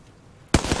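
Gunfire in the video game Apex Legends: after near silence, a sudden loud burst of shots erupts and continues in rapid close bursts to the end.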